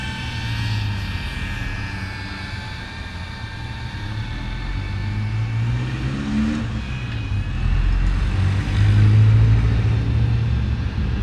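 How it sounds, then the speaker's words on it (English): A car passes outdoors at a distance, its low engine rumble swelling toward the end, with the whine of 75 mm cinewhoop drone propellers running steadily in the background. "you can hear the car more than the props at this distance"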